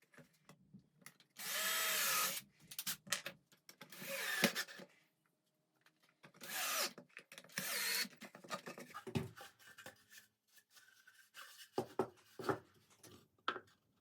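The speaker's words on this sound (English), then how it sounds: "Do the same thing, pre-drill, and then add 3 screws." A power drill pre-drills holes in the back piece of a wooden wren birdhouse and then drives three screws, giving a few close, loud whirring bursts mixed with scraping and handling noises.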